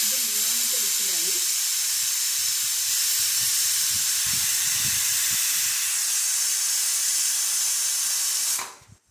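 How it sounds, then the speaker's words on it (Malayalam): A pressure cooker on a stove releases a steady, loud hissing whistle of steam while mutton biryani cooks, holding continuously for several seconds before abruptly dying away; a voice briefly speaks at the start. "ഇത് മൂന്നാമത്തെ വിസിലാണ്"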